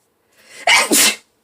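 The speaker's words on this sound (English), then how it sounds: "Sorry, y'all, I gotta sneeze." One close, loud sneeze with a brief inhale before it, then silence.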